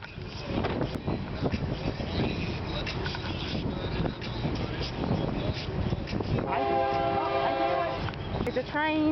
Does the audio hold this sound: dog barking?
no